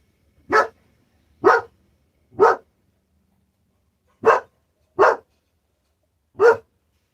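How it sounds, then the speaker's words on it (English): A dog barks in six sharp, loud, separate barks, three in quick succession, a pause, then three more, close by with no talking over them. "There's no cause for barking!"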